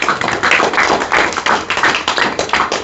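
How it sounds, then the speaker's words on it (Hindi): Audience at a village gathering in Ranipatti Mokalpur, Jaunpur, breaks into loud, sustained applause. Dense clapping fills nearly three seconds without a break and rises and falls slightly in waves, with no voices above it. "तो एक बार इनके लिए जोरदार ताली बजाइए"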